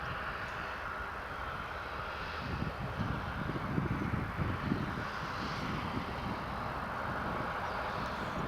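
An EasyJet airliner takes off at Newcastle Airport, its jet engines a broad, sustained roar heard from a distance. A rougher rumbling swell builds in the middle and then fades back to a steady whoosh.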